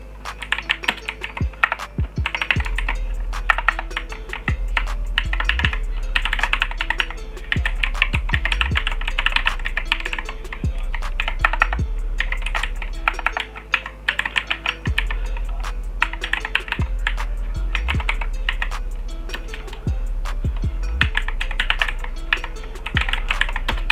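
Steady typing on a computer keyboard while installing a Debian 8 package, with dense clicking keystrokes, occasional louder key presses, close and continuous with no speech.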